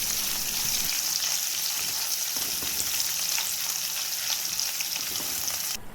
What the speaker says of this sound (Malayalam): ഇഞ്ചിയുടെയും വെളുത്തുള്ളിയുടെയും പച്ചമണം ഒന്ന് മാറുന്നത് വരെ വഴറ്റി കൊടുക്കാം